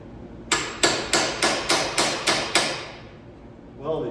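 Seven evenly spaced, ringing metal hammer blows land on a seized, welded-on part of a 1967 Triumph GT6 in a garage, followed by a brief quieter clatter.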